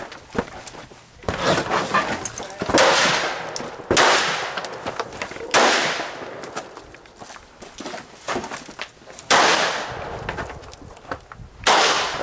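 Gunshots ring out on a shooting match stage, with repeated loud, sharp cracks spaced irregularly across the stage run and outdoor rustle and footsteps between shots.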